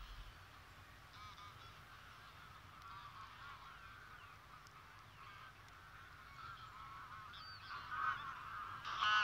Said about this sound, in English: Thousands of geese invade the arable lands to feed on the cereals that have sprouted